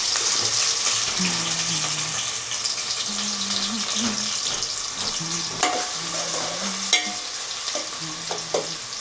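Onions frying in a pan for a sea fish curry, a steady close sizzle with stirring scrapes and occasional clinks, faint voices murmuring in the background.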